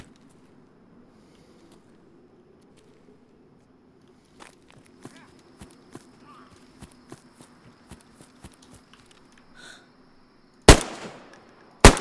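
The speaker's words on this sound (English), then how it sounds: "I just shot him in the head twice" Shuffling footsteps and scattered clicks lead into two sharp, loud shots from a Colt 1911 .45 pistol in a World War video game, the second coming about a second after the first.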